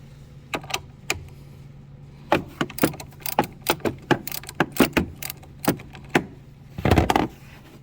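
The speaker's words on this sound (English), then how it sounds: "we are going to remove the battery terminal, the negative battery terminal, this one with the 10 mm" A wrench loosens the 10 mm nut on the negative battery terminal of a 2017 Kia Sedona van, giving a run of sharp metallic ratchet clicks in uneven bursts, close and alone.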